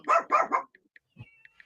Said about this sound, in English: we've got a couple of extra commentators on tonight of the barking kind